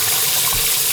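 Water gushing steadily from a leaking faucet, a loud continuous rushing stream close by with no breaks.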